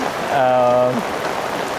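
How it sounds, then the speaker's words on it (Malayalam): Heavy rain falls in a steady, dense hiss along a Kerala bus route, with a short tonal honk-like sound rising over it midway. "നല്ല അടിപൊളിയായിട്ട് മഴ പെയ്യാൻ തുടങ്ങിയിട്ടുണ്ട്"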